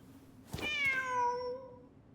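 One clear, drawn-out cat meow in a video game, close and loud, rising and then falling away over about a second and a half against a quiet background.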